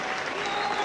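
A rugby league crowd at a St Helens versus Hull match applauds, with a dense, steady wash of distant clapping filling the whole short moment.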